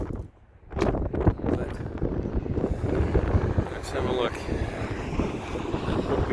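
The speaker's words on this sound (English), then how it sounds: "I think it's going to be so windy that you won't hear me." Strong wind buffets the microphone outdoors near a church steeple, a loud continuous rumble that drops out briefly near the start and then roars on, with someone speaking through it.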